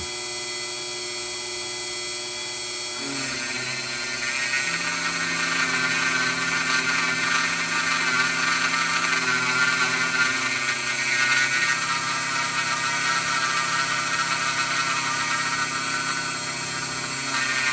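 A DIY mini mill plunges its cutter into wood, a loud steady whine with shifting stepped tones as the spindle bites and moves, running continuously without talk.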